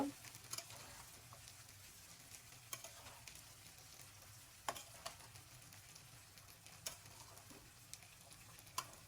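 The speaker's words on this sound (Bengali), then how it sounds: "আমি এখানে একটু নাড়া দিয়ে দিব সবকিছুর সাথে ভালোভাবে মিশিয়ে দিব" Gourd and shrimp curry being stirred in a pan, with a steady soft sizzle and scattered ticks and scrapes of the spoon over about nine seconds, faint and without talk.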